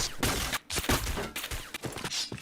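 Rapid bursts of gunfire crackle from a shooting video game, several sharp shots following one another in quick succession at moderate loudness, with no speech over them.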